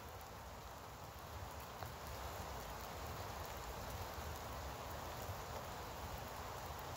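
Light drizzling rain falls steadily on foliage and ground outdoors beside a small green-willow campfire, a soft, even, continuous patter with no talk.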